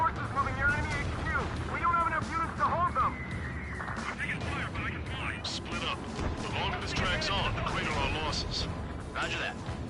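Gunfire and explosions from air combat in the video game Ace Combat 7, with dense continuous rattling bursts and booms under radio chatter and talk throughout.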